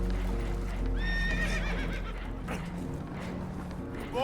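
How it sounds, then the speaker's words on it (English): Spooked horses whinny loudly and shrilly in a Red Dead Redemption 2 scene, with a couple of rising neighs heard close over a low rumble of water and a boat, and faint hoof clatter. "Horses are spooked, and we're taking on water."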